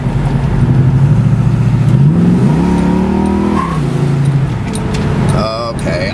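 A 1974 Pontiac SD 455 Formula Firebird engine accelerates hard, loud and close, its revs climbing through the gears with a brief shift dip before easing off; a voice is heard near the end.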